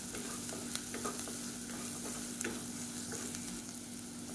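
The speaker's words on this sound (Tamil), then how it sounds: "இப்போ உருளைக்கிழங்கு நல்லா வறுபட ஆரம்பிச்சிருச்சு" Potatoes frying in a pan with a few pinches of chilli powder, a steady close sizzle with occasional soft clicks of stirring, no voices.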